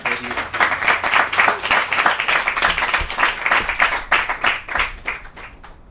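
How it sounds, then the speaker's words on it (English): An audience at a talk bursts into loud, sustained applause, dense clapping that carries on for several seconds before thinning out and stopping. "please give a big round of applause"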